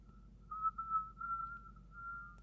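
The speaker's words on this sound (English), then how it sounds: "it's so narrow, it doesn't even really sound like the voice, but it's just like a whistling sound" Narrow EQ resonance boost on a vocal recording, heard as a thin, sustained whistling tone holding one pitch for about two seconds, fairly faint over a low background.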